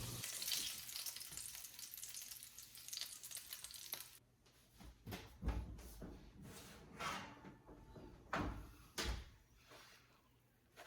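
Squirrel pieces in oil sizzle loudly at first, then the frying quiets to a low crackle while utensils and pans clatter and thump nearby.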